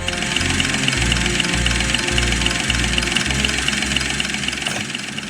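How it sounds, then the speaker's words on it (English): Airplane engines start up and run for takeoff, a steady loud drone with pulsing low throb that carries on throughout with no talking. "Steve started his engines and took off into the sky."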